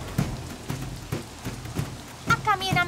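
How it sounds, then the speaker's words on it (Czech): Rain patters steadily on leaves and ground beneath trees as a cartoon storm rolls in, with soft repeated thumps and a brief musical or voice-like tone near the end. "Rádi vypouštějí déšť tam,"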